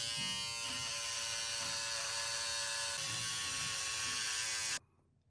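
An electric razor buzzes steadily and closely while trimming a mustache, then cuts off abruptly near the end, leaving near silence.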